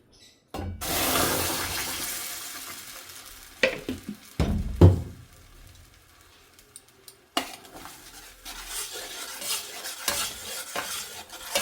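Ground custard powder mixture poured into an uruli pan for papaya halwa and stirred, with a loud rushing pour at the start followed by scraping, clattering strokes against the pan and a few sharp knocks, with no talk.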